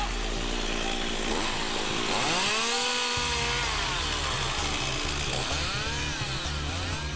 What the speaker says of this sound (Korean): 고요한 정막을 깨고 나무를 자르는 소리가 요란하다.